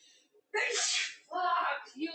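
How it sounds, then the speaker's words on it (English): A sneezing fit: two forceful, close sneezes in quick succession, each with a sharp intake and explosive burst, followed by a short breathy sound. "Fuck you, sneezes."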